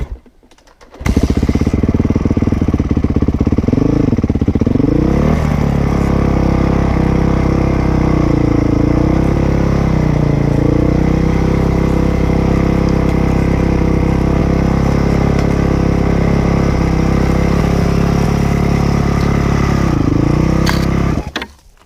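Dirt bike engine idling high and loud, close up, a constant buzzing drone with slight wavering in pitch that runs for about twenty seconds before cutting off.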